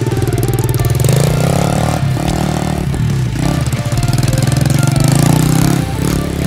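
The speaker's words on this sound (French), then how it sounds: "Les gars, la moto Temu, les gars, c'est une vraie moto. Elle a de la puissance, elle roule bien et elle s'éteint même pas." A cheap Temu motocross motorcycle engine runs loud and close, a harsh buzzing single-cylinder drone with rapid knocking pulses that shifts pitch slightly as the throttle rises and eases, with no voices.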